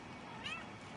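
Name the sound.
cat meowing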